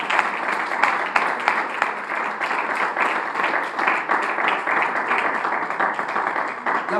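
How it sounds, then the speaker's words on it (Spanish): A church congregation breaks into sustained applause during a sermon, loud, dense clapping from many hands filling the room continuously for several seconds. "¿Cuánto le dan a Dios un aplauso"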